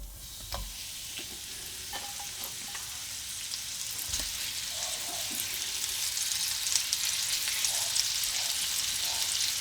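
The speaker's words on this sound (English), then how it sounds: "Next step is to brown the meat." Kangaroo meat searing over high heat in a wok, a steady close sizzle that swells gradually louder, with a few faint scrapes early on and no voices.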